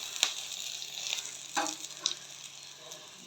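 Bitter gourd slices frying in oil in a wok, a soft steady sizzle with a few sharp crackles and light stirring clicks, close and fairly quiet with no talking.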